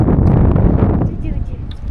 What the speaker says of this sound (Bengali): আর এখানে অনেক বাতাস।